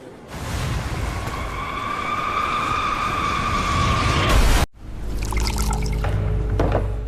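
A loud rushing roar with a high whine builds steadily, then cuts off abruptly into scattered rattling, creaking and rumbling noise as an airliner, Adam Air Flight 574, breaks apart in flight.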